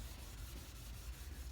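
Abrasive sanding against an oxidized plastic car headlight lens, its edge taped off from the paint: a continuous close, rough rubbing scrape with faint rhythmic strokes.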